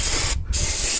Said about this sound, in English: So take your brake parts cleaner, just